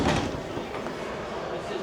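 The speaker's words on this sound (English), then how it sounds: "Here is the doors to close the bunk room." A bunk room door in a camper swings shut with a single close thump at the start, followed by a lingering dull rumble of the space.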